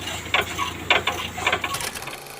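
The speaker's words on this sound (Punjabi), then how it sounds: "ਆਹ ਸਾਰੇ ਨਟ ਖੋਲਣੇ ਪੈਣੇ ਪੱਲੇ ਤੇ ਫੇਰ ਖੁੱਲੂਗਾ ਪੱਲਾ" Nuts being loosened and unscrewed from a panel on a maize cutter during cleaning, heard as a run of short metallic clicks and ratcheting bursts, close and moderately loud, with no talking.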